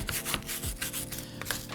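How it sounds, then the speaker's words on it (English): Brushing loose grass clippings off a Husqvarna Aspire battery line trimmer, heard as close, repeated scratchy rubbing strokes in a quick irregular rhythm. "it's good practice just to give the line trimmer a bit of a brush down and remove"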